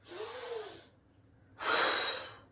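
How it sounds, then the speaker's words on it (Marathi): A person doing a pillow-supported exercise breathes audibly, first a long airy exhale, then a short pause, then a second strong, close breath, with no talk. "आता इथे श्वास सोडून द्यायचा"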